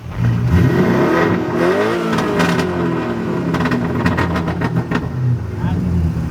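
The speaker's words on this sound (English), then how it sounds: "rev it a little bit" A car engine revving in a parking lot at night, a loud, close roar that climbs and eases through several throttle blips.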